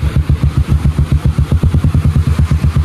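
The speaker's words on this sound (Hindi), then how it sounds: "इस पानी में बाइक रुका दिया बहुत पानी है" A motorcycle engine idles steadily while the bike stands stopped in stream water, its close, loud, chugging pulse repeating evenly throughout.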